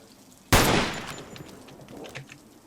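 A single sharp burst of gunfire from the video game Zero Sievert, loud and sudden, then a decaying reverberant tail with faint scattered sounds afterward.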